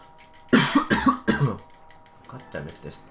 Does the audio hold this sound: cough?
yes